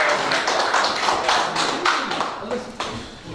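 Audience in a village community hall applauding at a chess tournament, a burst of close hand claps that gradually thins and fades, with a few voices in the room.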